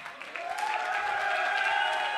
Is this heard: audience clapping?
yes